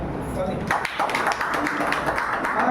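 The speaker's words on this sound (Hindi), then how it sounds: "तालियां।" Audience applause at a Rainbnb meeting presentation in Rosera: a burst of dense, fast clapping starts after a short lull and keeps going under some speech.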